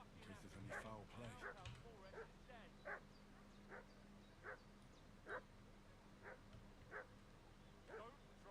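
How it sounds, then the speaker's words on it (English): A dog in a medieval village of Kingdom Come Deliverance II barks and yips repeatedly in short spaced bursts, moderately near, with some whimpering fuss early on and a low steady background hum. "What's that dog making such a fuss about?"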